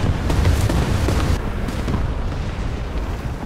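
A tank cannon shot in War Thunder from a T-34/85 gunner's position, a loud, deep boom that opens the clip and rumbles on in a long, heavy low-end decay.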